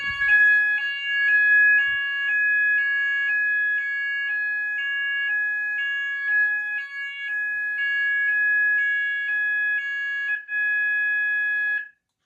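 Fire alarm sounders on an MxPro4400 system under test blare a loud, steady two-tone warble, alternating pitches in a regular pattern for about twelve seconds before cutting off abruptly.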